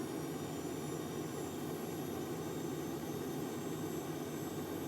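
Steady roaring jet afterburner on a custom stealth fighter in SimplePlanes 2, a constant broadband engine rush held at full throttle with the parking brake on, loud and unbroken throughout with no voices.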